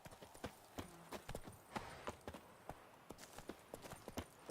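Hooves of Roach, the horse in Witcher 3, clip-clop in a steady walking rhythm, each step a distinct knock, fairly quiet and alone.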